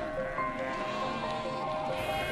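A large mob of about 4,000 sheep on a station bleats in an overlapping, continuous chorus, steady and fairly loud throughout with no talking.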